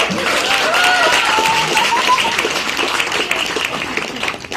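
A stage audience at a company's fifth anniversary celebration breaks into loud, sustained applause, with voices mixed into the clapping.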